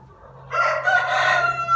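A rooster crows once, loud and close, from a backyard chicken coop, with a steady low hum running underneath and no talking.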